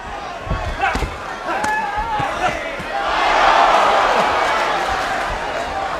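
Boxing arena crowd reacts during the Miguel Cotto vs Yoshihiro Kamegai fight, murmuring at first, then swelling into a loud, sustained roar midway, with a commentator's voice and punch thuds over it.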